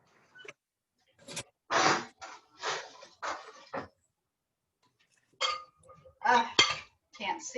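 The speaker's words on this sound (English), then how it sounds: "I guess I need a spoon to stir this" A spoon stirs cooking food in a bowl, making bursts of scraping and clinking against the dish, separated by quiet pauses with faint breathing.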